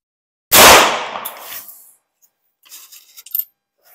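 A single loud close shot from a Bear Creek Arsenal .22 WMR rifle at a range, a sharp crack that decays over about a second, followed by faint metallic clicks and rattles.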